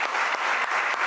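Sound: audience applause for Diego

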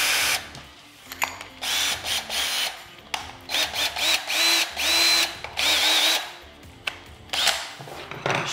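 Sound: power drill with carbide bit drilling holes

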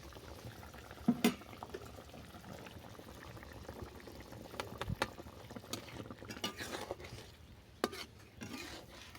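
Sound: bhola fish simmering in curry with mustard paste

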